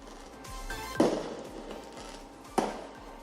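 Fireworks played back for a dog during noise training: two sharp bangs with crackling tails over a steady low background hum, moderately distant and without talk.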